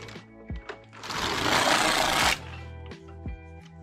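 A Passap E6000 knitting machine carriage runs across one row, a dense loud whirring rush lasting about a second and a half, framed by lighter clicks and clacks of the machine before and after.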